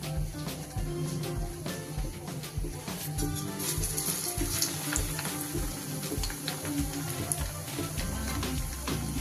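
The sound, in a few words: bread sandwich chops frying in oil over medium heat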